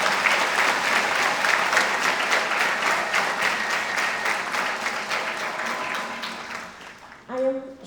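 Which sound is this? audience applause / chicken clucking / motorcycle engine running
audience applause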